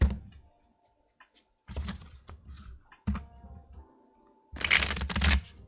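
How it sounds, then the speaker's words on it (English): Tarot cards shuffled in bursts, with crisp riffling and slapping rattles separated by quiet pauses, close and fairly loud. "I guess it'd be fair to shuffle with these cards in the mix too."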